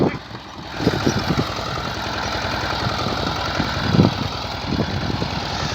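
An old Xingtai 120 tractor engine, over 30 years old, idles and chugs with a rough, uneven knocking rhythm, running steadily and fairly close throughout.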